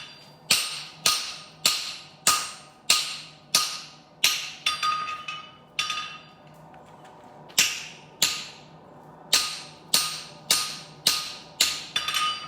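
Steady hammer blows ring out on a horseshoe being modified at the anvil: a loud, evenly spaced run of sharp metallic strikes, a brief pause near the middle, then another rhythmic series.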